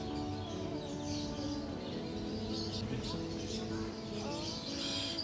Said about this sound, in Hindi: ये चिड़िया का आवाज़ इधर से आ रहा है मुझे